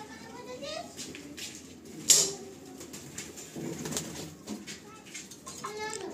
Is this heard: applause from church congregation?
no